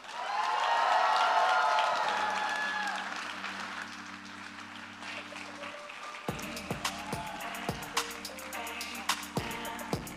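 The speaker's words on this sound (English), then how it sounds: "please give some dish another big round of applause" A crowd at a celebration for Rohit and Anushka bursts into loud, dense applause and cheering right after a toast. The clapping swells, then thins out over about six seconds as music with a steady beat comes in.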